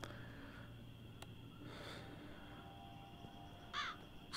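A crow in the video game The Walking Dead: Saints and Sinners gives a brief, faint caw near the end over a steady hiss of ambient game noise, with no talking.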